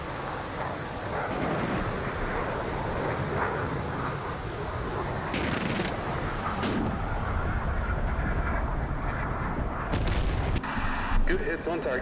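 Mk-83 free-fall bombs strike and explode on a ground target in a DCS flight combat scenario, rumbling blasts and crackling debris rolling through a dense, loud bed of noise with sharp reports near the end, while someone speaks over it.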